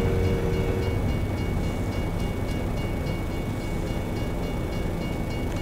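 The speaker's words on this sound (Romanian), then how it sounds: "Uite, bă, că trece trenul" Train rolling past in the American Truck Simulator game set in Arkansas, a steady loud rumble of rail cars with a faint tonal hum, continuous throughout.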